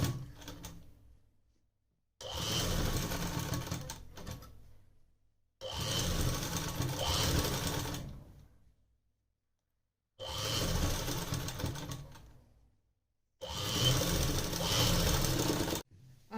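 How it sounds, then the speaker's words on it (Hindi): Electric sewing machine stitching a kurti back panel seam, four loud runs of rapid needle chatter lasting two to three seconds each, separated by near-silent pauses, close by with no talk. "अब घुमाते हुए फिर इसी तरह से सिलाई लगाते हैं।"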